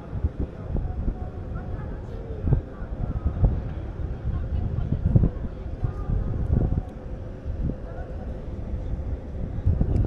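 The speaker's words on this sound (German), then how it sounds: "Hier geht ganz schön Wind." Strong wind buffets the microphone on the open deck of the MSC Sinfonia cruise ship as it leaves the port of Piraeus, a steady roaring rumble with gusty bursts throughout.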